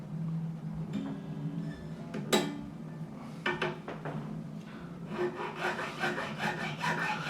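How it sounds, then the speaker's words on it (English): A size 13 file cuts the second-string slot in the nut of an Epiphone EJ-200-SCE-VS acoustic guitar, with short, close rasping strokes in an uneven rhythm and light tapping between them. "I'm going to take the right size file, 13, and I'm going to cut the second one"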